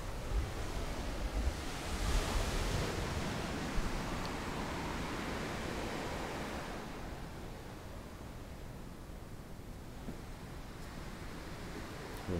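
Surf washing onto Simpson Bay Beach, a steady broadband roar of waves with some wind buffeting the microphone, continuous and fairly near, no voices.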